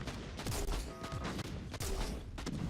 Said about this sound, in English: Airburst grenade.